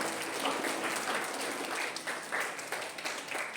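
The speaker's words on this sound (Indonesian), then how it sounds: "berikan tepuk tangan bagi Tuhan kita." Congregation applause at a church Christmas program for a preschool, a steady, moderately loud wash of many hands clapping together that holds throughout with slight surges.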